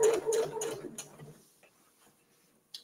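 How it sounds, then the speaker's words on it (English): A sewing machine edge stitching a fabric gift bag whirs in a short close burst of rapid ticking stitches, then stops and leaves quiet with a faint click at the end; no talk. "we're going to go just edge stitching, just about 1/8 of an inch."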